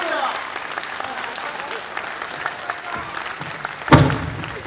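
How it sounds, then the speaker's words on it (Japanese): Audience applause after a professional wrestling match fills the hall as a moderate patter of clapping, with voices talking over it and a brief louder burst near the end. "見事な激戦を繰り広げましたこの両選手に今一度盛大な拍手をお送りください。"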